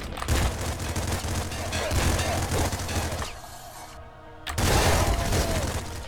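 The laser rifle in the video game Nuclear Throne fires in dense, rapid bursts mixed with booming impacts, pausing briefly before the blasts resume.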